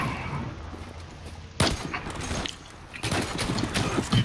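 Gunfire in the online shooter Zula: several sharp bursts of shots in quick succession, fairly close and loud, with no talking over them.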